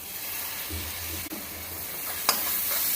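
Tomatoes go into frying onions with ginger-garlic paste for pav bhaji, giving a continuous close sizzle broken by a short scrape of stirring and one sharp clink.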